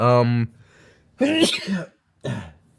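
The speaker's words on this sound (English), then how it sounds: "that sneeze had to happen sometime" A person sneezes and clears the throat in a series of three short, loud bursts separated by pauses, close to the microphone.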